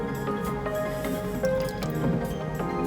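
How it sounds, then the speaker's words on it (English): Water sloshes and drips as it is swirled around in a shallow dish for a pet bearded dragon, a continuous close-up wet trickling with small splashy drips throughout. "the sound of water, running water, or if you just, swirl it around like that"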